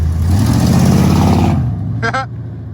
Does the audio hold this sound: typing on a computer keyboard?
no